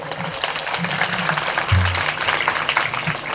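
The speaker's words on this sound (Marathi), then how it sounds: "एकदा आमच्या टाळकरी मुलांसाठी तरी एकदा जोरदार टाळी वाजवा." An audience at a devotional talk by Dada Maharaj Kolaskar claps together, dense and fairly loud applause that carries steadily across the moment alongside low crowd murmur.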